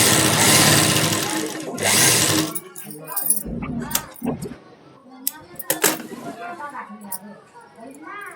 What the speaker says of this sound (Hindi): पिछले पल्ले के दोनों टक्स की सिलाई कर लेंगे।